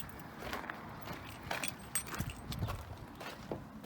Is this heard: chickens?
no